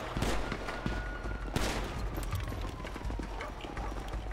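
Rapid gunfire from a GTA 5 roleplay police operation crackles in bursts, with a sharp louder shot near the middle over steady background noise, with voices faintly talking beneath.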